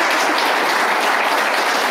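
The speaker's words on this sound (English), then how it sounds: "We can applaud." Crowd applause at a startup pre-accelerator showcase, steady and fairly loud throughout a short burst of even clapping with no break.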